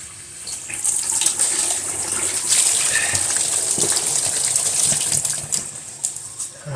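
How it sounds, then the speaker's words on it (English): Water gushes loudly and steadily from a kitchen tap into a sink as something is rinsed out, with splashes shifting the flow but never stopping, and no voices. "I'll rinse that out right away so it doesn't get all starchy."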